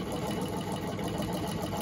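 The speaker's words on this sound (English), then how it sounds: "sewing with my own sewing machine." A Gritzner sewing machine stitching through a rag, a continuous close mechanical whirring hum with a fast steady rhythmic chatter, loud and unbroken.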